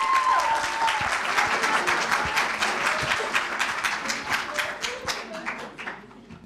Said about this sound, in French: S'il vous plaît, un tonnerre d'applaudissements.